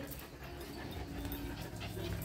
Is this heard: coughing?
no